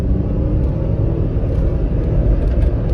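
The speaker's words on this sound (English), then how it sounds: "let's just put it in AC off and do a little pull from first gear" A 2002 Honda Insight with a CVT pulls from first gear with the A/C off, a loud, steady engine drone and road rumble heard from inside the car, with no talk over it.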